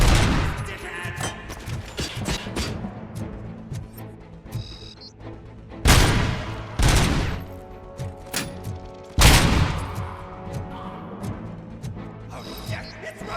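Gunfire in the video game RoboCop: Rogue City, rapid bursts of shots punctuated by two heavy, loud blasts, with voices speaking amid the shooting and game music underneath.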